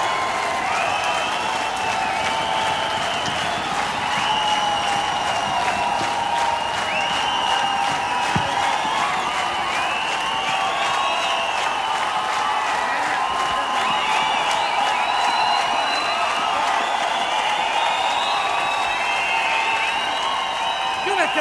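Concert crowd applauding a choir at an outdoor show in Kolozsvár, a steady dense roar of clapping and cheering lasting throughout, with music tones and voices mixed in.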